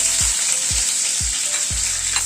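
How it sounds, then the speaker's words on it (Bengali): Sliced onion and square-cut capsicum sizzle in a hot pan, a steady bright hiss with four evenly spaced low knocks as the vegetables are stirred. "পেঁয়াজ আর ক্যাপসিকামটাকে একটুখানি হালকা করে নেড়ে নিচ্ছি।"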